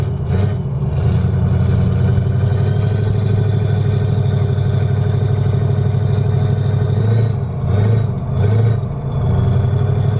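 An 800 hp 6.0 Powerstroke diesel truck cruises, heard from inside the cab. A loud, steady low diesel drone with a clattery edge holds throughout, easing briefly a couple of times near the end.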